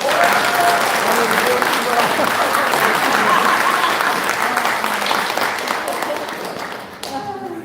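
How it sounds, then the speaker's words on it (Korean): A crowd applauds loudly and steadily at a lecture, dense clapping that fades slightly near the end as a voice starts to come through. "박수 한 번 더 주세요"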